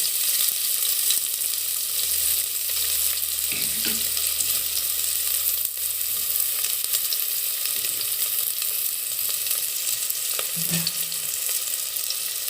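Chopped onion sizzles and crackles steadily in a hot pan while being fried for kalathappam, with occasional stirring clatters over the continuous frying hiss.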